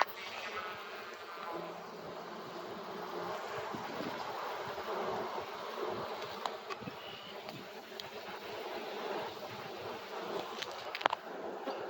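Honey bees buzz in a low, steady drone around an open hive during an inspection of capped honey frames, with occasional soft handling clicks and no talk.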